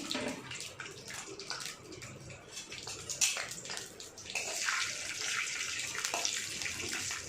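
Cashews frying in hot ghee in a pan for homemade carrot halwa, a continuous bright crackling sizzle that swells louder midway and stays dense to the end.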